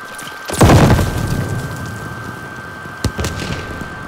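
A grenade goes off in Call of Duty Vanguard multiplayer with a loud, close boom that rumbles and fades. A second, sharper blast cracks a few seconds later.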